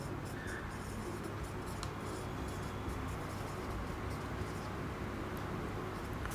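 Chalk or marker scratching out sentences on a classroom board, a series of short scraping strokes heard faintly over steady room noise and background hum.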